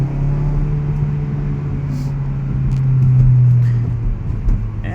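A 2016 Mazda CX-3 Grand Touring AWD with its Skyactiv engine accelerates in sport mode, a steady droning engine hum that swells briefly midway as it shifts, heard from inside the cabin without talk.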